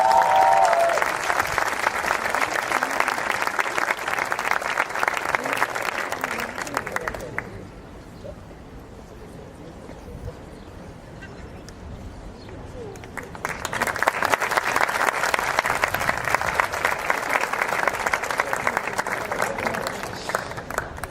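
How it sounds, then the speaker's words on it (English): An audience applauds at a medical school white coat ceremony in Nicosia in two long, dense bursts of steady clapping, separated by a quieter stretch of a few seconds. "Thanks for clapping."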